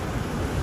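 A waterfall and water washing over a rocky shore, a steady, dense rush of water with a wind-like hiss and no breaks or voices.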